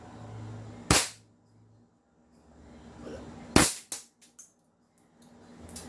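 Two sharp, loud shots from an M4 Medusa airsoft DMR-style rifle, spaced a few seconds apart, the second followed by a short rattling clatter, in a quiet indoor setting.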